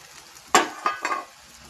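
Chopped eggplant tumbles into a hot pan and gets stirred, a sudden sizzling rush followed by two or three scraping spoon strokes, close and brief.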